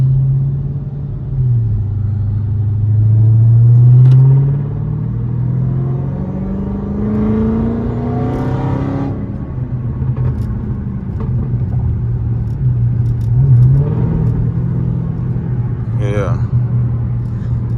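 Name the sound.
Dodge SRT Hellcat car engine driving and revving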